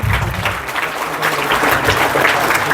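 A school audience of children and adults claps loudly and continuously at an AI awareness program, a dense, steady round of applause with no talking over it.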